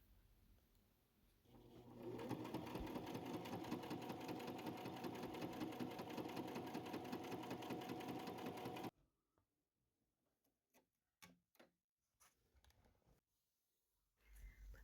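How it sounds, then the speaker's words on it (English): A home sewing machine stitches a straight test line, a steady close-up mechanical whirr that runs continuously for several seconds and then stops, followed by a few soft clicks and handling sounds. "right here, I am just going to sew a straight line to make sure that the threads are okay"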